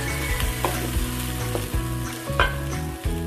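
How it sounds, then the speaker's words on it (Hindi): Chopped tomatoes sizzle in hot frying masala for a spicy baingan bharta, a steady loud crackling fry with several brief stirring scrapes breaking through, close and continuous with no talk. "चॉप किया हुआ टमाटर डाल देंगे।"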